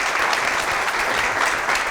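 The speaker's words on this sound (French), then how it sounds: "Donc, on peut l'applaudir bien fort." Steady, loud applause from an audience at a municipal election debate evening in Créteil, a continuous dense clapping that carries through without pause.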